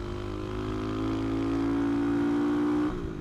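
A CCM Maverick motorcycle engine revs loud and close, its tone climbing steadily for nearly three seconds before the throttle snaps shut and the note drops away.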